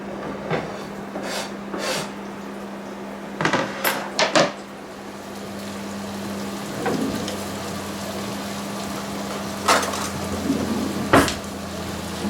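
Onions scraped into a heated frying pan with vegetable oil, giving a steady sizzle with a low hum underneath and a few sharp scraping and clattering bursts of pan contact scattered through.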